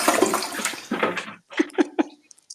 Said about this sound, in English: Then you do the toilet flush.